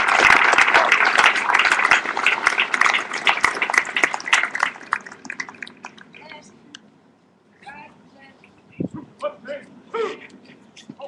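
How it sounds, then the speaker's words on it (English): Audience applause for award winners at the LDAC 2011 graduation and commissioning ceremony of the 7th and 8th Regiments, dense clapping that thins out after several seconds, followed by scattered sounds and brief voices. "let's give our award winners a round of applause"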